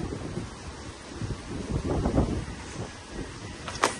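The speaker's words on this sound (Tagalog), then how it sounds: "sobrang lakas ng hangin." Strong wind buffeting a microphone outdoors near the sea, a continuous loud rushing roar with gusting swells and rumbling, no one speaking.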